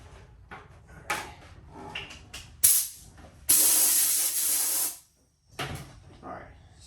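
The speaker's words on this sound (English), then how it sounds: "to spray out this bucket with air so we don't get any dirt or anything in there" Compressed air blows into an empty bucket being cleaned before water is poured in for filling a 4G63 engine block with cement, a loud broadband hiss in short bursts and one sustained blast of about a second and a half, with faint background noise between.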